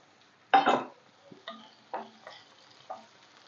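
Drumstick pieces go into a hot pan for biryani, giving one sharp burst of sizzle followed by several softer stirring scrapes and brief frying crackles, close up and with no talking.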